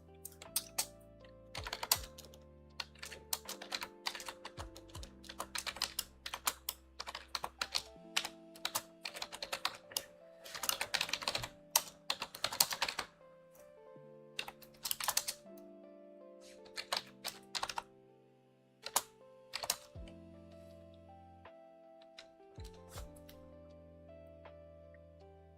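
Code being typed on a computer keyboard, with steady runs of quick clicking keystrokes interrupted by brief pauses and occasional louder key strikes, close and clear with no talking.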